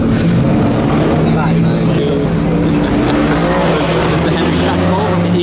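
An F1 race car with a straight-through exhaust roars loud and near, its engine note holding steady harmonics that shift in pitch as it revs, with people talking over it.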